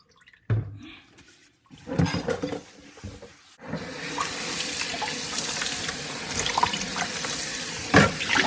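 Water runs from a kitchen tap as aromatic herbs are washed for a salmon in tomato sauce recipe, starting with a few splashes and handling noises and then settling into a steady close hiss of flowing water.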